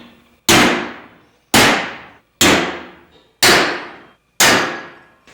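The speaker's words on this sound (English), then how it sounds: "Take our center punch here," A center punch struck by a hammer against a Big Twin Evo motorcycle hardtail frame: five sharp, loud metallic blows about a second apart, each ringing briefly before dying away, close to the microphone.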